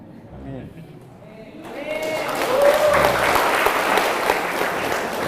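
An audience at a student Islamic organisation gathering bursts into applause after a speaker's joke, the clapping swelling in after a voice and holding as a dense, steady crowd sound.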